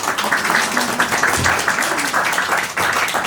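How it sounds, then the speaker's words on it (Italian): Audience applause at the opening of an art exhibition, steady clapping from a crowd that fills the room and sounds moderately close, with a voice faintly heard beneath it. "Un applauso."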